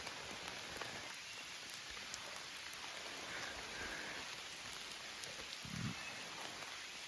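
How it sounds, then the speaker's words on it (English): Light drizzle on the Appalachian Trail, a soft steady patter of fine raindrops on surfaces, faint and continuous with no voices. "A little drizzle."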